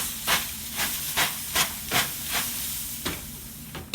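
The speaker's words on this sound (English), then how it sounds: "I'm going to put it in the oven and give a steam like this" Steam is sprayed into a hot oven while ciabatta bakes, giving repeated short hissing bursts in an uneven rhythm over a steady low hiss, close and alone.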